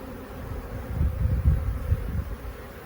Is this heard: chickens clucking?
no